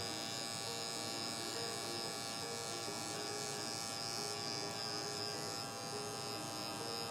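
Electric hair clippers with a half guard fading hair: a steady close, continuous buzz that holds at an even level from start to finish.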